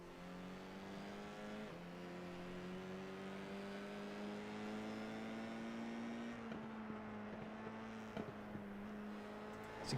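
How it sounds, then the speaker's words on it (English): An F4 race car's engine whines steadily in iRacing at Virginia International, its pitch climbing and then dropping sharply with each gear shift, close and continuous with no talk. "So you can hear them shift a little bit there."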